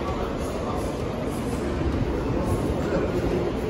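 São Paulo metro train heard from inside or on the platform: a steady, dense roar of wheels and motors, loud and continuous, with no distinct clacks or squeals.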